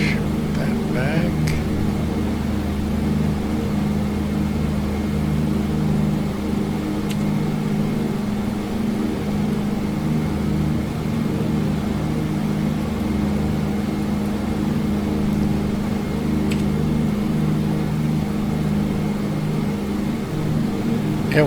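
Steady droning of the twin engines of a DC-3 airliner in Microsoft Flight Simulator 2020, a constant low hum with one engine losing power, unchanging in level throughout.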